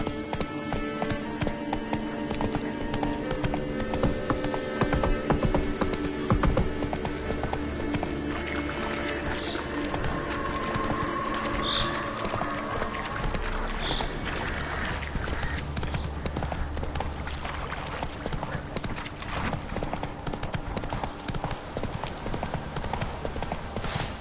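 Roach the horse galloping in The Witcher 3, a steady clip-clop of hooves running close and continuous over game ambience, with a brief whinny-like tone and faint background noise throughout.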